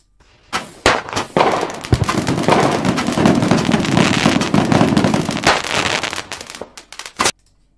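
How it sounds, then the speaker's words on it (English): Rapid bursts of fireworks crackling and popping, loud and dense, with a few sharp bangs at the start and a final loud pop before falling quiet. "It was fireworks."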